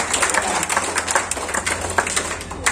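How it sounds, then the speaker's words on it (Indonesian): An audience at an inauguration ceremony claps steadily, a dense, fairly loud patter of many hands that continues through the whole moment. "Kasih tepuk tangan dulu."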